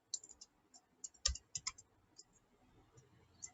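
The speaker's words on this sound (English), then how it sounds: "Let me type it here." Sparse keystrokes on a computer keyboard, a few quick clicks then a short cluster of louder taps, close and quiet with no voices.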